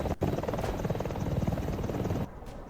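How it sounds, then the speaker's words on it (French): A Roblox helicopter that won't lift off whirs with a loud, choppy rotor drone that cuts out abruptly near the end, leaving a quieter hum. "On a un problème d'hélicoptère!"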